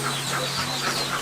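Chickens clucking in a farm coop that also houses ducks, a continuous close chatter of soft clucks for a brief moment, no voices.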